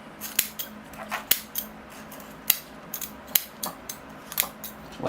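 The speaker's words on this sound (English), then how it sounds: "I'll come in with my scissors, not my really good scissors, but my bee scissors, and I'll just prune off these roots." Everyday scissors prune bonsai roots to separate stacked pots, giving a series of crisp, sharp snips at an irregular pace, close and fairly quiet, with no one speaking.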